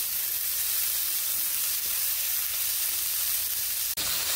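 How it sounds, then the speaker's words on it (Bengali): Cauliflower florets frying under a lid in a pan over medium heat give a steady, even sizzle and hiss that runs unbroken, with a brief clink near the end. "ফুলকপিগুলোকে আমি মিডিয়াম হিটে একটু ঢাকা দিয়ে ভেজে নেব।"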